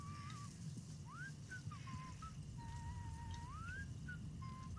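An enemy character whistles a wandering tune in the video game Atomfall, a faint, thin melody of short phrases and rising slides heard over a low rumbling game ambience.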